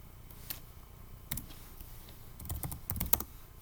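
Scattered clicks of typing on a computer keyboard, a few isolated taps followed by a quick cluster of keystrokes, close and fairly quiet, with no talk.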